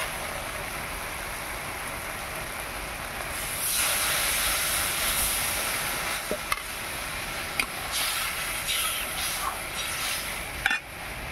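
Water poured into a pan of frying mustard spice paste for a silver carp curry, setting off a loud steady steam hiss with a few sharp clinks of utensils.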